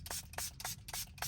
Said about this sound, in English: I'm gonna go and spray more solution on here again